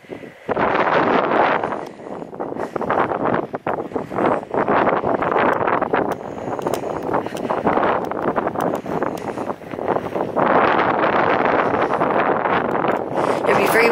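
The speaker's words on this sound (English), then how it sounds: "It'll be very windy, everyone." Strong coastal wind at Sand Bay buffets the microphone in loud, gusty roars, rising and easing unevenly throughout.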